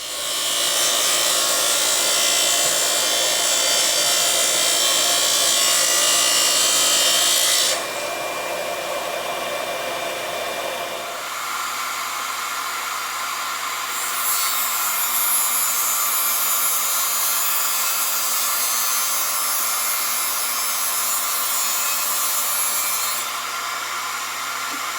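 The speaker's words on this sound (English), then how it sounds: "the laminated plywood is now ripped into 2 5-inch wide pieces." A saw rips laminated plywood into narrow strips in a workshop, producing a loud, sustained whine that drops in pitch partway through as the blade loads in the cut and then continues steadily to the end.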